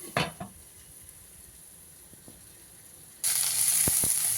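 Vegetables for manchurian frying in a hot pan, a brief scrape at the start, then quiet, and a loud steady sizzle bursting up near the end with a couple of clacks.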